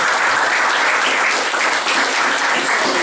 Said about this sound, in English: let's give Ashley a round of applause